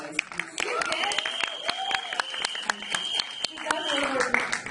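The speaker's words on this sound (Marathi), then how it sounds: "माझ्यासाठी एकदा टाळ्या वाजवा" An audience claps in scattered, sharp bursts that run steadily throughout, partly under a person talking over it.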